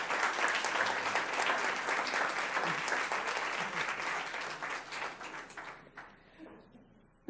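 Audience applause at a school district board recognition ceremony, a sustained crowd of clapping hands that holds strong for several seconds and then thins out and fades to a few last claps.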